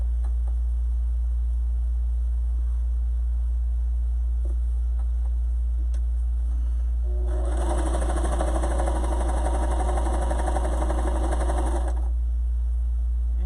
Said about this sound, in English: I'm gonna sew this felt on.